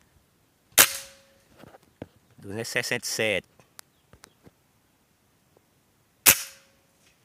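A Reximex Zone air rifle fires Slug Ivo pellets, giving two sharp, close cracks several seconds apart, with someone speaking briefly between the shots.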